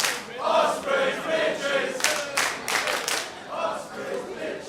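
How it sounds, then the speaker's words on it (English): A British wrestling crowd jeers at the wrestlers, a loud, swelling mass of boos and shouts, with a few sharp bursts of noise near the middle. "The crowd letting them know exactly what they think of them."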